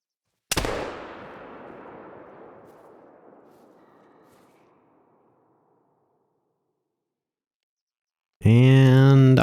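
A single loud musket shot fired while hunting a whitetail deer in theHunter: Call of the Wild, a sharp blast followed by a long rolling echo that fades over several seconds, then a voice begins speaking at the end.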